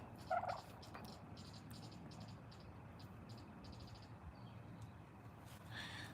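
Turkeys of a smaller, non-large-bodied breed on a small farm near woods gobble softly in the distance over a constant bed of insect and frog chatter, with one brief gobbling burst near the start.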